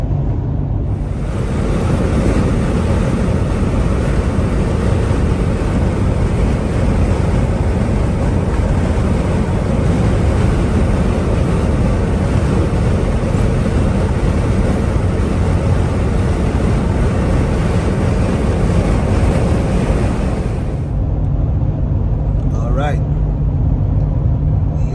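Steady road and wind roar from inside a car driving north on a Florida highway, a loud continuous rumble that cuts off near the end.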